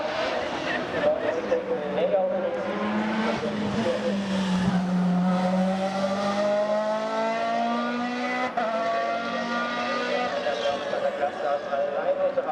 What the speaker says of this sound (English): Downshifting sounds just as good as the acceleration.